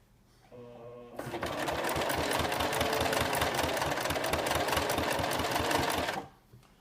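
A sewing machine runs steadily for about five seconds, stitching a strip of test material with a fast, even mechanical chatter, close and loud, starting and stopping abruptly with a brief murmur of talk before it.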